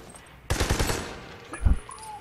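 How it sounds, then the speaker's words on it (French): Rapid blind-fire gunshot bursts in the shooter Army of Two: The Devil's Cartel, a loud dense volley after a brief lull, then a single heavy thump. "faut tirer à l'aveugle"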